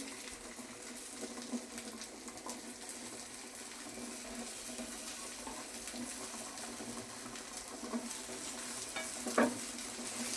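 Chicken cheese cutlets fry on a low flame with a soft, continuous sizzle, quiet and close, broken by a few faint pops and one brief louder crackle near the end.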